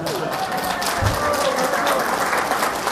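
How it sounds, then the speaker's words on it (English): A conference audience applauding, a steady wash of many hands clapping throughout, with a low thump near the middle and some murmured voices mixed in. "I'll take that applause as approval."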